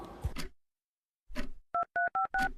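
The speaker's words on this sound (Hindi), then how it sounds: "फोन लगाओ उसे, लगाओ" A phone is dialed: after a couple of short vocal sounds and a pause, four distinct keypad tones beep in quick succession, close and clear.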